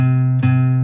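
A sustained, heavily distorted electric guitar chord from the opening riff of a song rings steadily and loud, with one quick re-pick near the middle and the string wiggled slightly by the pinky.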